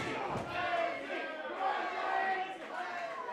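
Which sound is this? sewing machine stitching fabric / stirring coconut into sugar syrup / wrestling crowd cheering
wrestling crowd cheering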